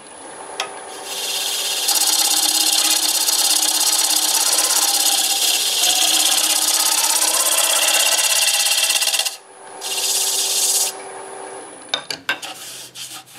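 A negative rake scraper scrapes a turned wooden bowl on a spinning lathe, giving a loud, steady rasping hiss that runs for several seconds, breaks off briefly, resumes, then stops with a few small knocks.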